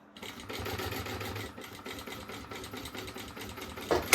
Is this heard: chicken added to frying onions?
no